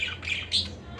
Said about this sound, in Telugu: మా ఇంట్లో లవ్ బర్డ్స్, సరిగా లవ్ బర్డ్స్ ఉన్నాయి.